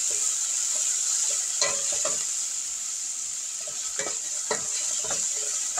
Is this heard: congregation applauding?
no